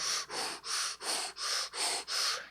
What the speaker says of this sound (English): add the fists up over the head with the O-shaped breath of fire